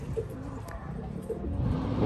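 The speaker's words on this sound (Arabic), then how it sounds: "هذا الحمام اللي شارك هسه عندي" Racing pigeons in a loft coo softly now and then over a steady low background rumble, with no voices.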